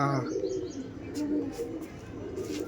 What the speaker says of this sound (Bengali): প্রচুর অ্যাগ্রেসিভ পায়রা